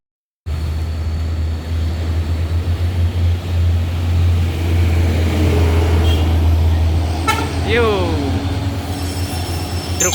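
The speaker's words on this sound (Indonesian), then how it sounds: "Truk modifikasi pengangkut bara." A modified coal-hauling truck rolls past on an Indonesian road with a loud, sustained engine drone close by. A horn sounds toward the end, and faint voices can be heard in the background.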